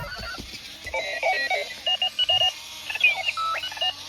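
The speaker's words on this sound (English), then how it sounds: "when the alarm goes off, it literally jumps off your nightstand and starts rolling away" Clocky rolling alarm clock going off with a sequence of chirpy electronic beeps and warbling tones in uneven bursts, fairly close and loud, with no talking.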